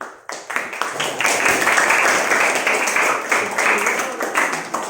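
A classroom of students clap together, a dense burst of applause that starts suddenly and keeps going steadily, fairly close and loud.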